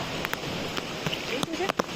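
Heavy rain in a thunderstorm in Palitana, a constant dense hiss of falling water, with someone talking over it.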